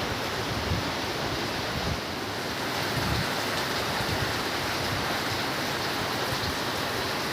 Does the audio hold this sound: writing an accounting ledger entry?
no